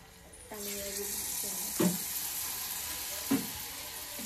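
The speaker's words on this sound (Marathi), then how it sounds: "तळून घेतो आता" Soybean chilli fries in hot oil with a steady, loud hiss and crackle that swells and holds, while a voice speaks briefly over it and a few sharp knocks break through.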